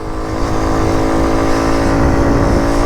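A Honda CT90 Trail 90 motorcycle ridden through light rain gives a loud, steady engine drone with a constant rough low rumble, heard close and alone.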